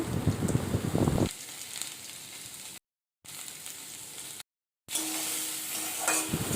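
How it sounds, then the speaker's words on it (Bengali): Salted vegetables for a catfish curry sizzle and crackle steadily in a hot pan, with stirring scrapes at first and two short breaks in the sound. "সবজিগুলো অল্প অল্প ভাজা হয়ে গেছে"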